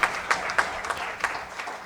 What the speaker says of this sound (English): Doesn't that deserve a round of applause?